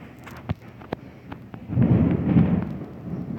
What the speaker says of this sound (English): Yes, that is the thunder.